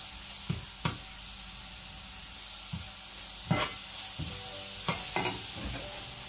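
Moussaka filling fries over medium heat while being stirred, a steady sizzle broken by a series of sharp spoon scrapes and knocks against the pan every second or so.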